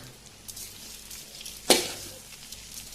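Sugar is stirred into beaten rice (poha) in a pan over steady low sizzling, with one sharp scrape of a spoon across the pan about halfway through.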